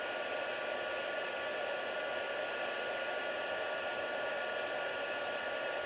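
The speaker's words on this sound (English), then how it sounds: "Just going to grab my embossing gun." A heat embossing gun blows a steady, loud, unbroken whoosh of hot air while melting white embossing powder, a constant dryer-like roar for the whole stretch with no talking.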